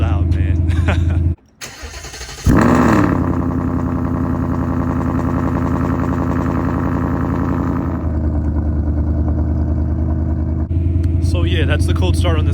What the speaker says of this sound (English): let's go ahead and get the cold start. I'm gonna back up a little bit because this car is pretty loud.